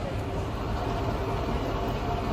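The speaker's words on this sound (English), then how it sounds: "the train is fired up" A tourist train at Goldfield Ghost Town in Apache Junction, Arizona, runs with a steady, close, low rumble and rattle that holds constant throughout.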